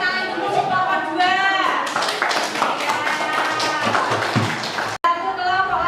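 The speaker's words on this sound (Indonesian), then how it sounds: "Tepuk tangan dulu untuk kelompok dua." Students in a classroom clap for a group that has just presented, a busy patter of hands heard under and after a voice speaking, ending in a brief cut.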